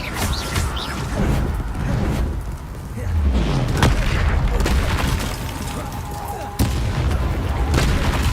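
Confringo blasting spell from a magic video game, with booming explosive hits and crashing impacts over a dense, continuous rumble of game effects. Sharp blasts recur throughout.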